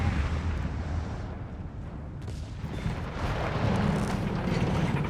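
Company of Heroes 3 battle with anti-tank guns and crews being wiped out: continuous rumbling explosions and artillery booms blend into a dense, loud wash of low thuds throughout, no voices.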